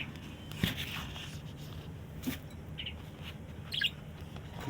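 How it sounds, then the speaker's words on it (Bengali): A common myna (shalik) calling: a few short, sharp chirps and squawks at irregular intervals over a quiet background, moderately near. "এই আমাদের শালিক পাখি"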